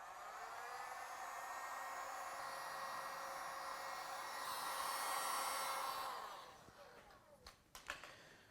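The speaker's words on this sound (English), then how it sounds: "I'm going to heat this dent to begin with" A heat gun or hair dryer blows hot air onto a dent in a Mazda 3 door in a cold Ohio shop, a steady loud whooshing whir that holds for about six seconds, then cuts off, leaving a few faint knocks.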